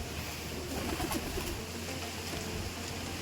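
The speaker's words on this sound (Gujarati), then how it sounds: "અને કબૂતરા પણ આમાં જોઈ લો કેટલા છે." Pigeons cooing around a farm well or water tank in rural Gujarat, a low steady murmur of soft repeated coos under continuous outdoor ambience, no speech.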